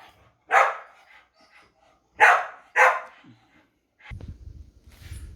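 A dog barks three times at another dog, loud and close, with short quiet gaps between the barks, then a low rumbling noise.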